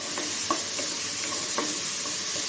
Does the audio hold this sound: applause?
no